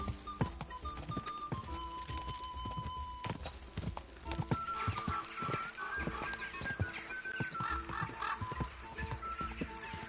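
A steady clip-clop of horse hooves runs throughout against busy game sounds and music in Kingdom Come: Deliverance II, with a faint whinny; no one speaks clearly.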